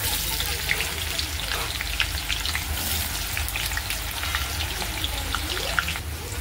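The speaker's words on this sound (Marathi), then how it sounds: "आता आपण कांदा फ्राय करायला टाकणार आहोत." Bay leaves and onion fry in hot oil in a home kitchen, a steady crackling sizzle with small pops and a faint watery hiss running continuously at close range, with no talk.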